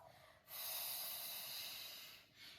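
Deep, steady exhale through the mouth during a quick full-body Pilates flow, a long breathy rush lasting nearly two seconds, then a short second breath near the end, close and alone.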